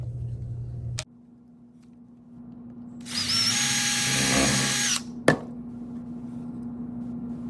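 A power drill drives a 2.5-inch screw into a board: a loud, close whine rises and holds for about two seconds, then cuts off, with a sharp knock just after and quiet hum around it.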